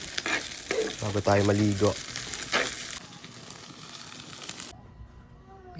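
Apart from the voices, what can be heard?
food frying and being stirred in a pan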